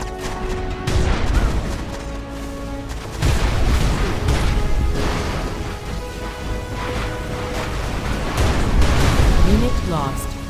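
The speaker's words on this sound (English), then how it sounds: "Warning, particle cannon activated." Loud booming blasts and crackling energy bursts from a particle cannon in Command & Conquer Generals, repeated over several seconds, with voices talking underneath.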